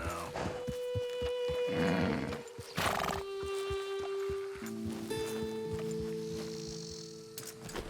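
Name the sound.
horse neighing and hooves, video game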